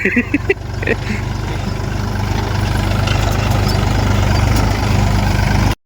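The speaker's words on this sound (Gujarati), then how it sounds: "એક ટ્રેક્ટર સામે પડ્યો છે અને એક ટ્રેક્ટર હાલ્યું જાય છે વાવવામાં" A tractor engine runs in a field during sowing, a loud steady low diesel rumble throughout, with a few brief knocks at the start.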